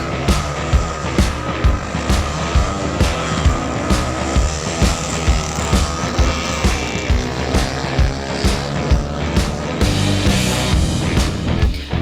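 Drag race cars at the Valley Run event in Aamby Valley, Mumbai, roaring loud and continuous with engine drone and rapid pulsing revs, heard up close from the crowd.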